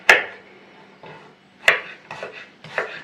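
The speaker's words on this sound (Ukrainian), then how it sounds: "Такими невеличкими кубиками ріжемо." A kitchen knife cuts vegetables into small cubes for cabbage soup. A few sharp, close chops strike the cutting board at an uneven pace in a quiet room.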